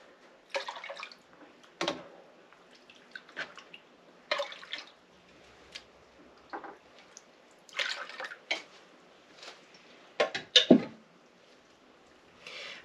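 Water drawn and poured for yarn dyeing, arriving in short intermittent splashes and trickles at close range, separated by quiet gaps, with a sharper pour toward the end.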